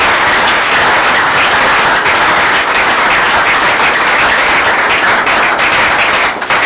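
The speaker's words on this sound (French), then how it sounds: "Acclamez quand même le Seigneur pour cela." A church congregation applauding the Lord, loud sustained clapping from many hands that stays even and close throughout.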